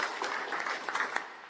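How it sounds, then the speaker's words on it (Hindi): Audience clapping for a women's international gold medal winner at an awareness event in Harda district, a brief burst of scattered hand claps at moderate distance, fairly soft and uneven. "ताली बजाओ, गोल्ड मेडल जीती है।"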